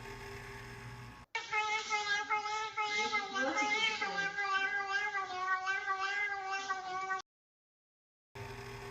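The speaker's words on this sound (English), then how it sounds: "It's a cat." A cat meowing sound effect from a coin pusher machine, a long drawn-out, wavering caterwaul that goes on for several seconds, loud and tonal, then cuts off into silence before the machine's background noise returns.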